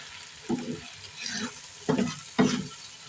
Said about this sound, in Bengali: হাতে নেড়ে দেবো।